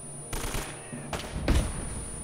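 Gunfire from a firefight in Uncharted: Drake's Fortune: several bursts of rapid automatic shots with loud, dense blasts, heard alone with no talking.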